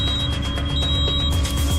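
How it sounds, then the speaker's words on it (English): Fire alarms blaring in every room of a home, a continuous high-pitched electronic tone that holds steady and loud without letting up. "it's blaring loud because it's in every room"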